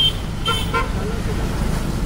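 Busy road traffic in Solapur rumbles steadily while a couple of short car horn toots sound near the start, with faint voices mixed into the background.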